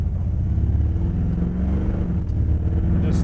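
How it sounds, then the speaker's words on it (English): Exhaust of a 1957 Chevrolet Bel Air restomod idling, a deep, lumpy V8-style rumble with a steady loping pulse, close and moderately loud, with no talking over it. "Just love the exhaust."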